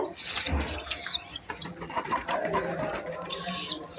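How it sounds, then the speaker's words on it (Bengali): Soft coos and chirps of young Shiraji pigeons close by, with a brief flutter of wings near the start and scattered rustling in between. "এখানে আছে আমার দুটা সিরাজ কবুতরের বাচ্চা"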